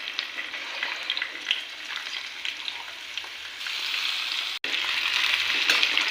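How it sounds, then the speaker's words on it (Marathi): Potatoes are stirred in a hot frying pan, making a continuous close sizzle with scraping and crackles, briefly interrupted by a sharp cut before the frying resumes. "बटाटे टाकल्यानंतर आता याला मस्तपैकी असं फिरवून घ्यायचं"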